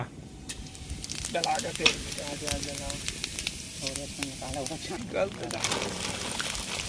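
Steady sizzle of cumin seeds frying in hot oil, with a voice talking over it and occasional stirring clatter.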